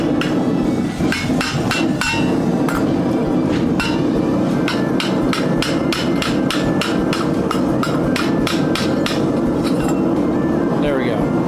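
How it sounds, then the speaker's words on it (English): A wooden mallet pounds a metal cloak pin with rapid, close, loud strikes that repeat in a steady, quickening rhythm, ringing slightly over a constant background din. "Got my wooden mallet."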